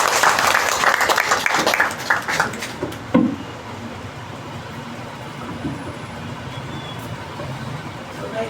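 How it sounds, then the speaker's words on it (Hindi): Gathering at an Arya Samaj evening session in Nanded claps to welcome an Acharya, a dense burst of applause lasting about three seconds before fading to quiet room noise with a few scattered claps. "एक बार जोरदार तालियों से आप सभी स्वागत करें।"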